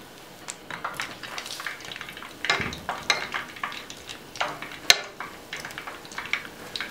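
Meat-filled dough pastries (belyashi) fry in oil, with a light continuous sizzle broken by irregular scrapes and clicks of a utensil against the pan, close and moderately quiet.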